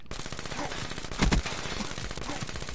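Bursts of automatic gunfire in a tactical shooter video game, laying down cover fire; dense rapid fire runs throughout with a louder burst near the middle, no speech over it.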